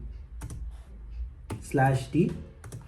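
A few sharp keystrokes on a computer keyboard entering a command, brief isolated clicks, with someone speaking over part of it.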